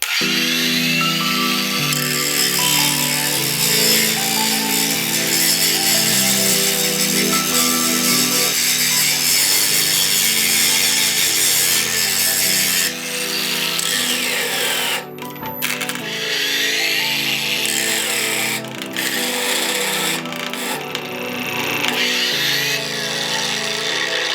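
A ProCraft PW2200 brushless angle grinder spins on its lowest speed setting with a steady whining hum, briefly dipping and catching around the middle before settling back into its even drone.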